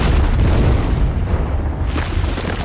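An explosion erupts near Lynn's tomb in the 2021 James Bond film: a loud, close boom followed by a sustained roaring blast that briefly dips and then surges again.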